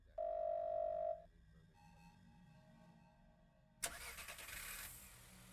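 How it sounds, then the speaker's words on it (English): A car engine starts outside a door: a steady tone first, then after a quiet stretch the engine catches with a sudden hissing burst and runs on fairly faintly. "Sound of a car starting is coming from outside the door."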